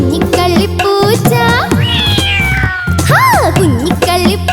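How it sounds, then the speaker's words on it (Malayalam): A cartoon cat in a Malayalam children's story meows repeatedly, with rising and falling cries close and loud, mixed with a light musical backing. "മ്യാവൂ മ്യാവൂ കരഞ്ഞു കൊണ്ടോടിക്കളിയായി."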